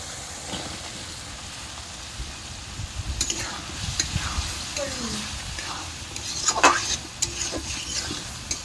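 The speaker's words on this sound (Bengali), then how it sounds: "আবার ভালো করে কষে নেব 5-6 মিনিট ধরে।" Small boiled potatoes sauté for aloo dum in a pan, a low sizzle with intermittent scraping and stirring strokes that grow busier midway, and a faint voice in the background.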